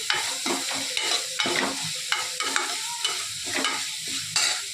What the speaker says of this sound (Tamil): நாலு வெங்காய நாலு தக்காளியை போட்டு வதக்கிட்டு இருக்கிறேன் நல்லா வதக்கிக்கணும்